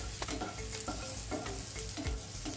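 Garlic cloves and onion sautéing together in a pan for an Indian cauliflower fry masala, a steady close sizzle with repeated scraping stirs and clinks of a utensil against the pan.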